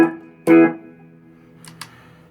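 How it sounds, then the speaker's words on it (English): An electric guitar runs through a delay pedal set for long echoes: two plucked notes ring out close and clear, then fade into soft, trailing repeats. "this is a longer one where you can play on top of the delay and the echoes that come back"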